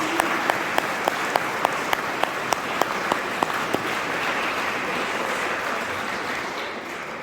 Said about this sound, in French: Eh bien, on va les applaudir.